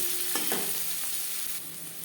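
Chopped onion frying in oil with bay leaf and Bengali five-spice for an omelette curry, a continuous close sizzle with a few stirring scrapes and clicks, no speech.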